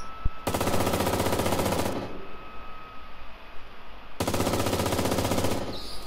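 Two long bursts of rapid automatic gunfire in a video game, loud and close, each lasting a couple of seconds with a brief pause between, without talk over the shots.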